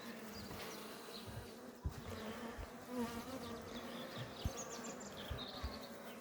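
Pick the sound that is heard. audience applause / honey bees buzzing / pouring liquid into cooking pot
honey bees buzzing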